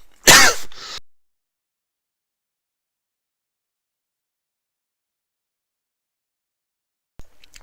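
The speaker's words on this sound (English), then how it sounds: "almost died to death of coughing" A single harsh, abrupt cough burst near the start, followed by long silence and a faint sound at the end.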